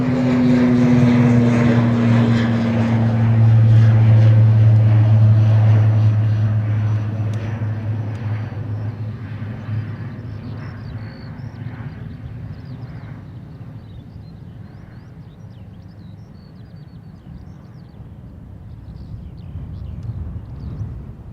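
A Ryanair airliner takes off at Dublin Airport, its engine roar loud at first, then fading steadily into the distance as it climbs away, with faint talk underneath.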